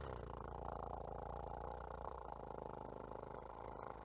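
A voice imitates a cat's purr with a steady, rumbling vibration of the lips, held evenly for a few seconds before stopping abruptly.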